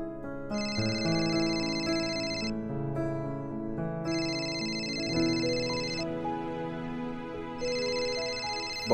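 A phone ringtone plays a bright, repeating electronic melody in short bursts with brief pauses, loud and close with no voices over it.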